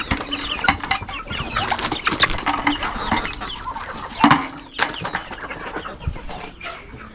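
A flock of chickens clucks and squawks close by in a busy, overlapping chorus, with sharp louder calls standing out against a steady farmyard murmur.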